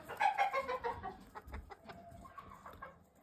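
Brown Red barn hens cluck in quick rhythmic bursts close by, loudest at first and then trailing into softer scattered clucks.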